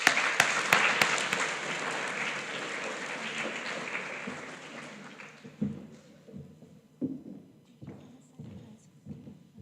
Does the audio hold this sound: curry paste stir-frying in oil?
no